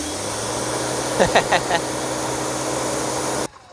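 A Kincrome quick connect surface cleaner for patios spins at high speed, giving a loud, steady whooshing hiss with a few brief louder surges midway before it cuts off abruptly near the end.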